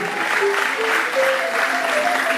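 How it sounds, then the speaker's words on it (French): Audience applause for a Congolese woman musician fills a French-language talk show studio, a dense, even wash of clapping with no pauses and some background voices mixed in. "Est-ce qu'on va applaudir"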